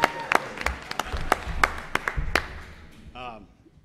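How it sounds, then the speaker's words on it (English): A crowd at a town meeting claps in a loose, uneven burst of applause that gradually thins out and fades. "Just another round of applause."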